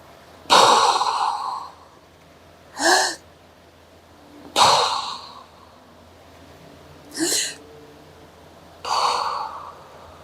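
Deep breaths drawn in during a seated upper-body strength exercise for seniors, five distinct breathy inhalations spaced about two seconds apart, close and clear against a quiet room with no talking.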